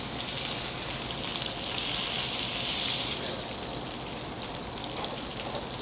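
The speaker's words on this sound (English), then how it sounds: "you can see they're going to sizzle a little bit" Honey mushrooms sizzle in plenty of hot oil as they roast, a dense, steady crackling hiss up close that eases slightly toward the end.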